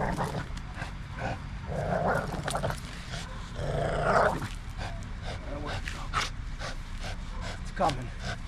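A reactive, dog-aggressive pit bull growls and barks in short bursts at a moderate distance, mixed with background noise and some talking.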